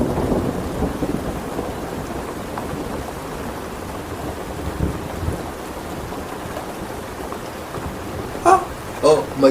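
Heavy rain pours steadily in a thunderstorm, with low thunder rolling under it and a few sharper close knocks near the end.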